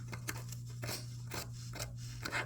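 Scissors cut through a fabric sample along a pattern in long, even strokes. Several rhythmic snips and a rasping slide of the blades are heard over a steady low hum.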